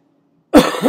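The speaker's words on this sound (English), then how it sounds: "coughing, sounding like me" A single sharp cough bursts out close up after a moment of near silence.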